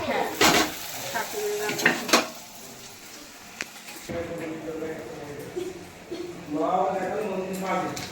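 Luchi fry in hot oil for a large batch made from three sacks of flour, a steady sizzle with stirring and clinks of metal utensils, while people talk over the cooking.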